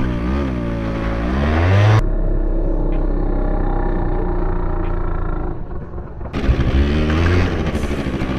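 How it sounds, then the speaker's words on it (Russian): A scooter engine revs hard, then gives way to a loud, rough roar of tyre spin as the scooter does a burnout and drifts. The pitch climbs and revs again near the end, close and loud, with no talking. "Бернаут, дрифт на скутере"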